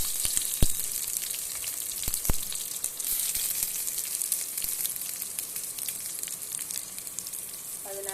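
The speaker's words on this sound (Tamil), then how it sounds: "இப்போ வெங்காயத்தை இதில் போட்டுக்கலாம்" Onions frying in a pan for pepper cumin rice, a steady close sizzle with faint crackles and a few sharp utensil knocks near the start, no talking.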